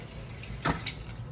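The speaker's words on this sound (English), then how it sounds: "Oh my gosh, there's water." A brief gush of water from a newly installed bathroom shower tap rises over a steady low hum, short and close, with faint sputtering.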